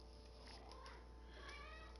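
A cat meows in a room, faint and close, with a drawn-out rising and falling cry over a steady low hum and quiet background noise.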